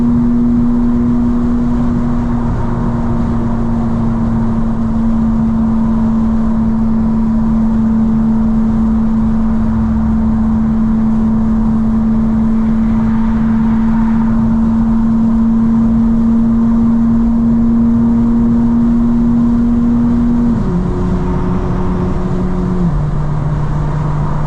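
Custom 2025 BMW M4 CS, rear-wheel drive with worn rear tires, cruising at sunset in Florida: a loud, continuous engine drone from inside the car, holding steady before the pitch steps down near the end.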